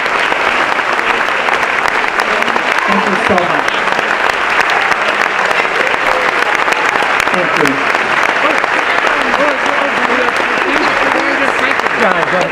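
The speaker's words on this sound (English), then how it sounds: "I'd like you to get a round of applause for all of your volunteers and your hard work." A gala crowd applauds volunteers with a long, sustained round of clapping that runs at full strength throughout, while a speaker's voice and scattered crowd voices rise over it and someone gives brief thanks.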